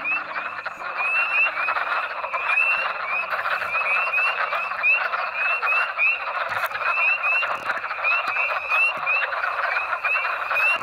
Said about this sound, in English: There's so many wood frogs